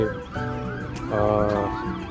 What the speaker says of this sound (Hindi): एम्बुलेंस की आवाज़ें देख रहे हैं